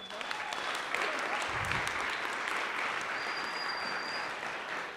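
Church audience clapping for a leader stepping into a new role, a full, sustained round of applause at steady level for about five seconds, with faint voices mixed in beneath.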